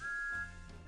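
A short steady whistle tone sounds in a UK PC video game, a single clear note lasting under half a second and then fading into quiet background game audio.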